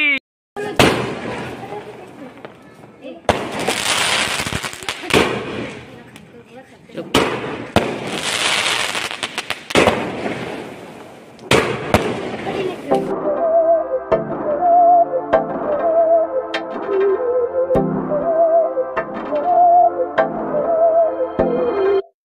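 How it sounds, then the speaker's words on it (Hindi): Diwali firecrackers and fireworks going off, loud crackling bursts in long noisy waves, then a sequence of whistling, popping fireworks with music playing and people talking nearby. "तो यहाँ पे फाइनली हमने पटाखे जला दिए हैं"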